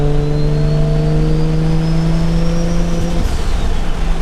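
Toyota Supra engine revving with steady harmonic drone, then a sharp drop and blip at about three seconds as a downshift rev-matches, loud and close with no talk.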